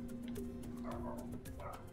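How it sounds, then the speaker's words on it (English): A dog barks outside a window, its yips and bow-wows coming in short irregular bursts over a steady low background hum, moderately loud and somewhat distant. "I'm sorry if you can hear the dog outside my window barking."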